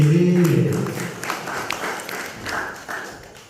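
An audience at an Independence Day event claps in scattered bursts that thin out and fade over a few seconds, just after a voice at the start.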